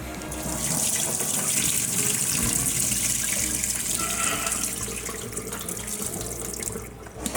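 Cut potatoes drained under a steady rush of running water in a kitchen sink, a loud continuous gush lasting several seconds before tapering off at the end.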